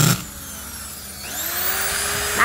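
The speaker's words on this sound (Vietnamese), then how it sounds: "Khoan búa nè." A used Japanese power drill running in hammer drill mode gives a close, loud, steady motor whine with a rattling buzz, lasting about two seconds between short bursts of handling noise at the start and end.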